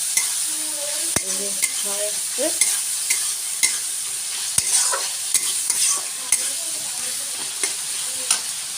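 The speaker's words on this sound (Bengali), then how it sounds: "ডাটাটা এবার আমি দিয়ে দিলাম দিয়ে এখন এটাকে এখন কষাতে হবে" Elephant foot yam stalks fry with hilsa fish head and spices in a pan, a steady sizzle broken by repeated scraping strokes of a spoon stirring.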